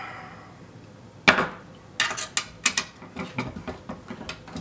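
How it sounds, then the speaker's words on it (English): Fittings on a camera cage rig being loosened, a series of sharp metallic clicks and knocks in irregular bursts after a quiet start, close by with no talk. "Going to loosen these up just enough to get some long rods through it"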